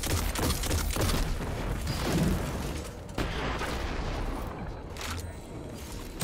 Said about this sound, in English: I'm just gonna keep spamming headshots through the barrier